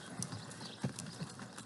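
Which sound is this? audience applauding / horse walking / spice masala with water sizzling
horse walking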